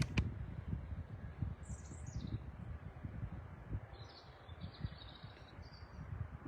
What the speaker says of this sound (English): Oh, look, you can hear the birds again.